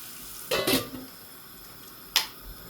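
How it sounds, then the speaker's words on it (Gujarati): Cumin seeds, curry leaves and asafoetida hit hot oil for a tempering, giving a sharp close burst of sizzling and spattering, then a quieter spell and a second brief crackling flare. "ચાલો, રાઈસ જીરું થઈ ગયું, લીમડો. હવે નાખવાનું છે હિંગ."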